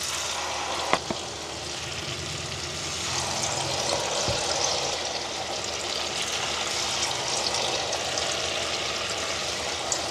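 Taro pieces deep-frying in hot oil, a steady dense sizzle and bubbling that holds at an even level throughout, with a couple of brief clinks near the start.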